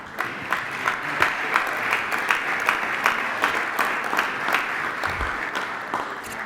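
Audience at a coaches' luncheon gives a steady round of applause, many hands clapping fairly close and evenly for the full stretch, with no talking over it.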